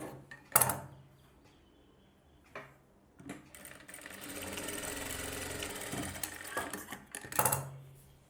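A tailor's sewing machine joins bias-cut blouse pieces, with short clicks and handling noises before a sustained run of stitching lasting a few seconds, then another brief burst near the end.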